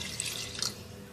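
Water splashes and trickles briefly into a pot of beef karahi made with cow meat, a short, moderately quiet pour with small drips.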